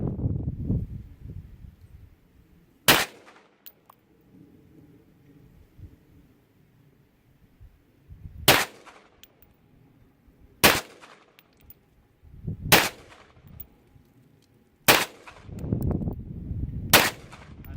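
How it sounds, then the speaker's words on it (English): Six sharp, loud Springfield XD(M) 9mm pistol shots with a threaded barrel are fired at outdoor targets, spaced a few seconds apart, with faint low rustling and handling noise between them. "I'm gonna take 6 shots at one of the yellow dots"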